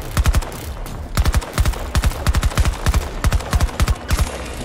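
Automatic fire from the PBX-45 in Battlefield 2042, heard as loud, close bursts of rapid gunshots broken by short pauses, with no speech over it.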